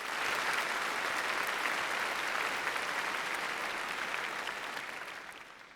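A large crowd at a high school graduation ceremony claps steadily for student council members, dense and even, holding strong before tapering off toward the end.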